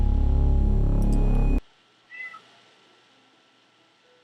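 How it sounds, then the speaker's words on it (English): A house cat meows once faintly in the background after loud music cuts off, a brief high call in an otherwise quiet room. "do you guys hear my cat?"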